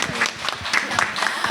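Audience applause at a book concert about Seonhak-dong, a crowd clapping steadily through the short stretch with some voices faintly mixed in.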